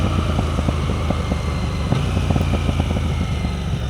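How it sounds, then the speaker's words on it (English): A 2026 KTM 990 RC R motorcycle with a homemade exhaust delete burbles and crackles through a downshift, making a steady loud throaty engine drone broken by many quick irregular pops, with no talk. "got some burbles coming down there as you're downshifting"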